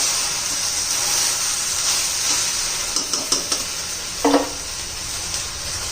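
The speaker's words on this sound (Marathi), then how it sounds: "व्यवस्थित मीठ मिक्स करून घेऊ अजून दोन एक मिनटं तरी परतू" Okra stir-fried with salt in a pan, a steady close sizzle with a few sharp clinks and scrapes of the spatula against the pan near the end.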